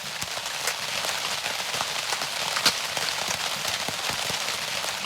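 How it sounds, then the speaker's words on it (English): Rain pours on a canvas tent at a summer camp, a dense, even patter of drops that goes on throughout, with one slightly sharper tap partway through and no voices. "Rain on the canvas is repetition."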